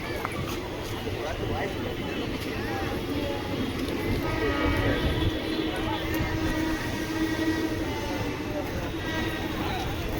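The Yelagiri Express pulls into Perambur station, a continuous rumble of rolling rail wheels and carriages with faint station ambience, steady and fairly close.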